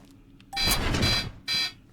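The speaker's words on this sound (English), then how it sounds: "whenever this, you open these doors, an alarm goes off for 15 seconds" An alarm sounds in a custom bunker in the video game DayZ, set off by opening the doors, heard as loud electronic blaring in two bursts with a short gap between them.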